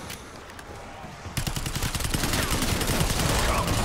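Rapid automatic gunfire in Black Ops 6 Zombies on the Terminus map, a dense stream of loud close shots that starts abruptly after a quieter stretch and keeps rattling on.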